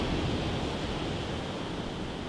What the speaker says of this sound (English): The waves, the natural sound is amazing.